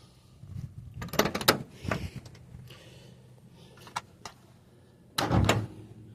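A door or hatch on a 3-litre Ford Zodiac MkIV being opened, giving a few close mechanical clunks and latch clicks spread over several seconds, ending in a louder thud.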